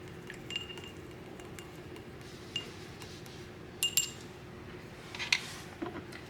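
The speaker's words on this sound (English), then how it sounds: "Give it a little stir." Soft clinks of a utensil against a glass container while an essential oil cold salve is stirred, a few faint scattered taps over quiet room background.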